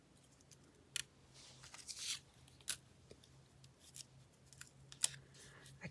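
Scissors snip paper at a craft table in several quiet, separate cuts over a faint steady hum, with no one talking.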